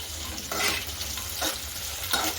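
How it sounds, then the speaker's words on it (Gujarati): Onion, chilli and tomato with spices are stirred in a hot pan for a puffed-rice khichdi, a close sizzle broken by three sweeping scrape-and-stir strokes. "હવે તેને પણ બધા જ મસાલાને સારી રીતે મિક્સ કરી લઈશું"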